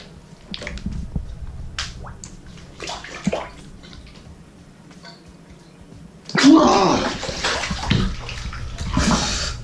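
A person plunges fully into a bathtub filled with Slime Baff slime, with a loud wet splash and churning after a quieter stretch of low sloshing.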